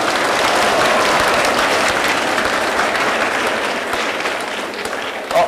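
Students in a lecture hall burst into loud, dense clapping that continues steadily for several seconds and tapers slightly near the end.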